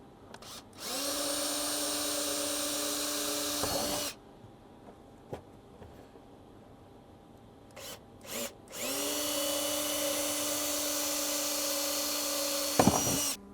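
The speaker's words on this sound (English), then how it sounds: "I'm going to go ahead and drill these 2 holes." A power drill whirs in two long bursts drilling holes in a Tacoma center console accessory panel, spinning up, holding a steady high whine, then stopping, with a quiet pause and a few clicks between.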